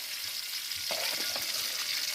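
Beunteur fish fry in a pan with a steady, close crackling sizzle and bursts of spattering oil, with no voices.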